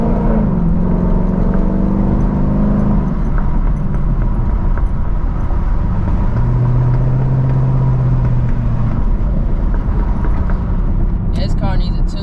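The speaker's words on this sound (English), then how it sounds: "This car needs a tune bad" Car engine running rough and in need of a tune-up, recorded from inside the cabin as a loud, constant rumbling drone with pitch shifts as it revs, while people talk over it.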